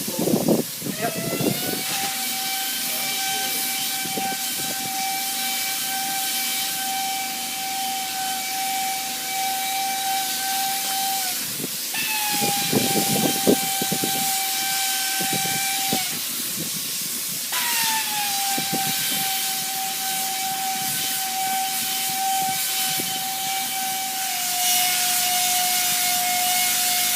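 A polyurea spray gun runs on compressed air during a fountain repair, giving a loud, steady hiss with a high whining tone that shifts pitch several times, plus occasional clatter and rubbing, with no speech.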